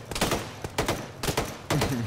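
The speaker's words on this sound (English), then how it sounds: "They said harassing fire." Bursts of harassing gunfire in the military video game Arma, four rapid volleys of shots in quick succession, loud and close, with no talk.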